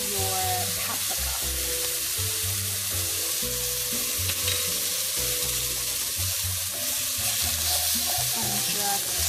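Lamb frying in a pan as paprika goes in, with a steady sizzle under a humming, tonal background and occasional stirring scrapes.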